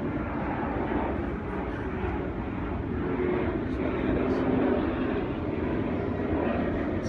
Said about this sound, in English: So we've got another plane.